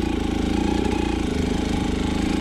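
Enduro motorcycle engine running steadily at low revs while the rider slips the clutch, a close, continuous mid-pitched throb with no talk.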